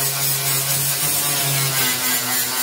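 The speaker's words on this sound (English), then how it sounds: "here we have our grinder with a flap wheel in it" An angle grinder fitted with a coarse 80 grit flap wheel grinds down a MIG weld on sheet metal, giving a steady, loud, continuous grinding whine with no pauses and no voices.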